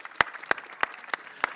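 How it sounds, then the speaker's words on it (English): Five sharp, evenly spaced claps ring out about a third of a second apart at an event featuring The Royals cast. They are fairly faint and sound more like one clapper than a full audience. "let's have a huge round of applause."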